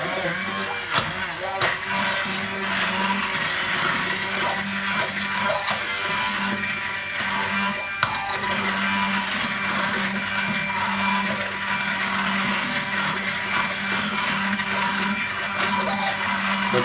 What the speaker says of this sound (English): and then we'll just go to the blender.